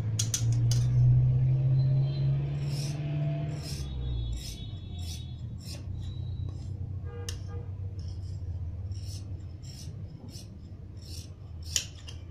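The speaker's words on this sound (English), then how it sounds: "now we cut the outline" Scissors cutting a fabric outline for pajama-style pants, with a low hum early on, then a steady series of close, crisp snips and rasping slides of the blades through cloth.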